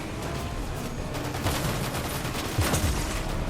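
Rapid bursts of gunfire in Fortnite Battle Royale crackle in quick succession, a couple of louder volleys standing out over steady background noise.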